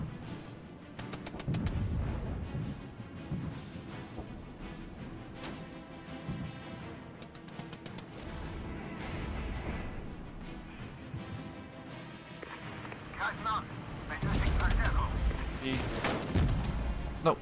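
Deep booms and thuds of artillery fire in the Regiments strategy game, scattered impacts around a mid-level battle din, with a heavier cluster near the end, under ongoing speech.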